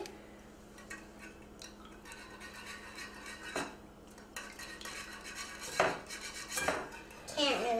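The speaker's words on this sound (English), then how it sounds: "Whisking, you can go like this. Like really fast little circular motions." A whisk beating in a bowl with fast little circular strokes for French toast batter, producing faint clinking and scraping in quick bursts that grow louder near the end.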